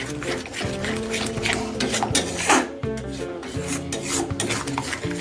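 Spoon stirring yogurt continuously into a paneer capsicum dish in a pot, a steady scraping, rasping rub that runs throughout with wet undertones.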